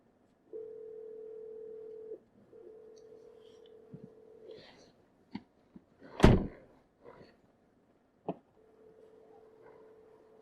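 A steady telephone ringback tone repeats in long pulses, fairly faint, broken by a few sharp knocks and a louder thump midway.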